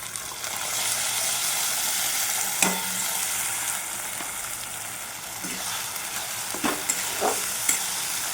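Spice paste frying with browned onions in a pan for a mutton curry, making a continuous close sizzle punctuated by a few sharp scrapes and clinks of stirring.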